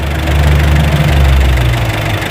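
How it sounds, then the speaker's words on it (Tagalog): A car engine idles steadily with its cooling fan on a silicone oil fan clutch spinning, a loud continuous low rumble and whir heard up close without any speech. "Umaandar, umaandar yung makina."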